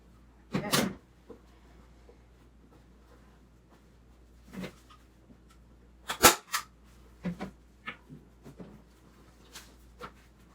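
A staple gun fires several sharp snaps while fabric is stapled onto a footstool, spaced irregularly in a quiet room among softer handling knocks.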